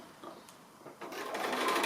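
A sewing machine stitches along a seam line of a small fabric stocking, a quiet whirring run that briefly pauses and then resumes more steadily and louder.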